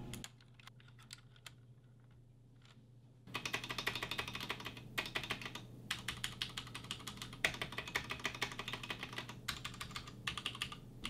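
A keyboard with Cherry MX switches and lubed stabilizers clicks through a few sparse keystrokes, then a dense, steady run of close typing that sounds clacky but not rattly.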